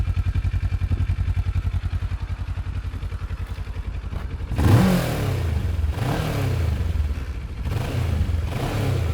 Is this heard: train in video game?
no